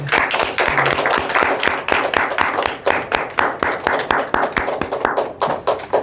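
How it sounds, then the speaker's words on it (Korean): A church congregation at a Wednesday service claps in a quick, steady rhythm of many hands, sharp repeated beats heard close and filling the room with no talk. "하나님께 영광의 박수"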